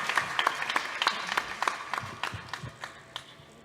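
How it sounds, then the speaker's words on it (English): A conference audience claps for a few seconds, scattered individual claps rising and thinning out in a modest, fairly close room. "Big round of applause."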